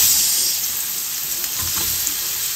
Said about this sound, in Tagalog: Sa pinagprituhan po ng salmon, dito po tayo mag-iisa ng bawang, sibuyas.